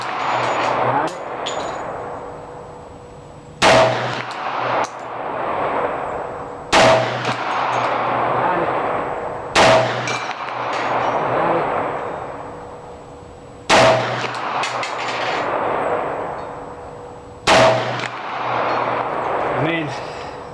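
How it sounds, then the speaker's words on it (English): Glock 10mm pistol shots fired at a steel target 100 yards away on an outdoor range: several sharp, loud reports spaced a few seconds apart, each trailing off, with someone talking between shots. "we're going to go ahead and see if we can hit that steel down there"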